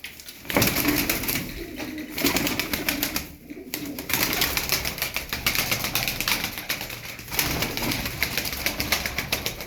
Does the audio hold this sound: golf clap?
no